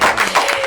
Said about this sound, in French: Est-ce qu'on peut applaudir pour Bintou?